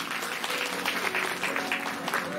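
An audience at a Guru Purnima festival at Hari Om Ashram, Kadwapani, claps loudly and continuously, a dense wash of many hands filling the whole moment.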